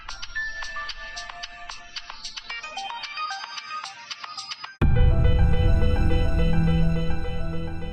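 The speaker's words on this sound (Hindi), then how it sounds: "पारेख हाउस से फोन क्यों आ रहा है?" A melodic mobile phone ringtone plays in a Hindi TV drama scene, first as a bright repeating chime, then growing louder and fuller with a steady electronic tune that rings on without pause.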